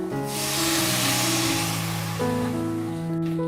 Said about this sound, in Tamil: தேவையான அளவுக்கு தண்ணி சேர்த்துக்கிறேன்